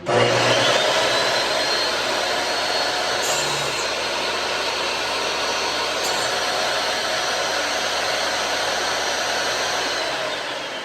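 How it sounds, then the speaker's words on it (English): A power saw cuts the end of a guitar fretboard, giving a loud, steady, continuous whine and rush that holds for about ten seconds before easing slightly at the end. "It's going to cut the end of the fretboard that butts against the nut."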